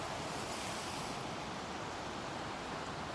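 A salmon creek flows with a constant, dense rushing hiss, steady and unbroken throughout, with some wind-like noise mixed in and no voices.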